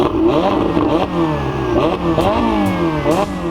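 A turbocharged Ferrari mid-engine supercar revs hard in repeated rising and falling sweeps, loud and close, with a rough mechanical edge and no talking.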